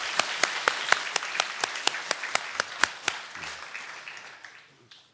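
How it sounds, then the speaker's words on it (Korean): A church congregation claps to welcome newcomers: a modest round of distinct, evenly spaced claps that thin out and fade after about three seconds. "우리 박수로 환영하겠습니다"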